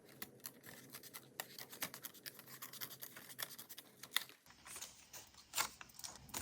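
A craft piece is cut around its edge, probably with scissors, producing quiet, irregular snips and scratchy paper rasps in a close, soft series.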